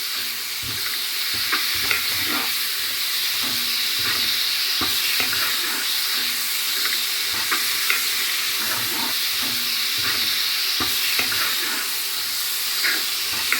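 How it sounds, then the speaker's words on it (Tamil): Tomato sautés with spices in oil for a Jaffna crab curry: a steady close sizzle with frequent spatula scrapes and taps against the pan, and no talking. "அதையும் போட்டு வதங்க விடுறேன்"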